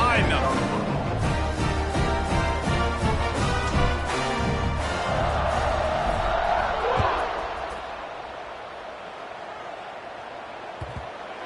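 A large stadium crowd roars in a football video game ahead of a kickoff, a steady broad cheer under a commentator's voice that swells and then fades to a quieter murmur near the end.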